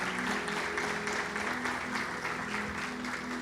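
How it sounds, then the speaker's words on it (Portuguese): A church congregation claps steadily for a few seconds during a sermon, dense applause filling the room with a few voices faintly mixed in. "Pode aplaudir ao Senhor."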